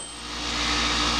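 A homemade grinder and disc sander wired through a Variac spins with a high, steady whine that rises slightly in pitch and loudness as it comes up to speed, close and alone.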